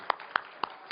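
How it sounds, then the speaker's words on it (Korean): Four separate hand claps from a church congregation during a worship service, sharp and evenly spaced about a quarter second apart, fairly close with little else around them. "하나님께 다시 한번 영광의 박수 올려드릴까요?"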